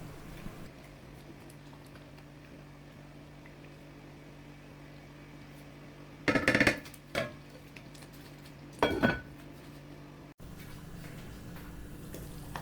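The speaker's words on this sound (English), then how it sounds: "give it a stir and cover it up again for about 4 minutes" Chicken stew in a saucepan gets stirred and the lid set back on, two short bursts of scraping and clatter around a steady low simmering hum, with no talking.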